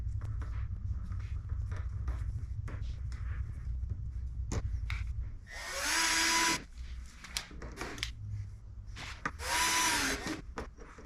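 A power drill driving two screws to mount a backup light on a 2014-or-newer Yamaha Viking side-by-side: two loud whirring bursts a few seconds apart, each ending abruptly, with handling knocks and shuffling in between.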